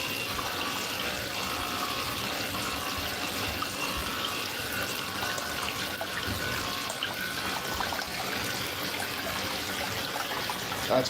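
Water flowing from a tap into a container at a gold wash plant build site, a steady close trickle and splash that runs continuously at even loudness with no voices.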